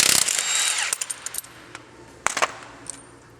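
An impact wrench with a spline drive socket on a Ram 2500's lug nuts, removing them in a loud initial whirring burst followed by short sharp hammering rattles and clinks, spaced irregularly and fading.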